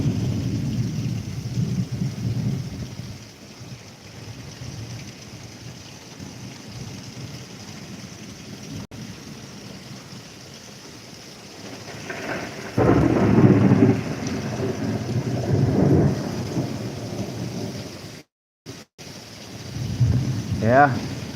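Heavy rain pours steadily during a thunderstorm, with gutters overflowing; low rumbles of thunder swell and fade across the clip, loudest around the middle and near the end, with brief dropouts and a voice speaking at times.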